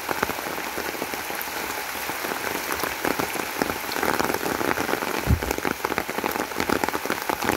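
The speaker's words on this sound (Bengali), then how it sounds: "কি স্নিগ্ধ বৃষ্টি পুকুরে বৃষ্টি" Rain falls on a village pond in Bangladesh, a dense steady patter of drops striking the water close by, unbroken and fairly loud throughout.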